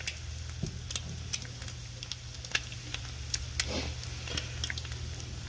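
Eggs cooking on a Blackstone griddle dusted with breakfast seasoning, a low steady hum with scattered light ticking pops and faint sizzle, quiet and close, no voices.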